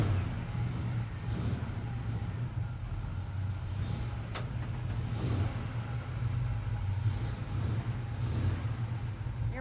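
An Apache truck engine idles steadily after being cranked, a low, even mid-pitched rumble with slight rhythmic pulsing and faint background noise.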